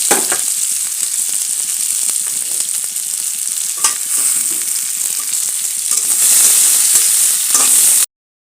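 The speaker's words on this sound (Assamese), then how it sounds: "ইয়াৰ বাটাৰতে ইয়াত পিঁয়াজ দি দিছোঁ" Onions fry in butter in a pan with a bright, steady crackling sizzle, dense with popping bursts and occasional stirring scrapes, close and loud until it cuts off abruptly near the end.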